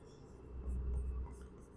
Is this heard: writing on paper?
yes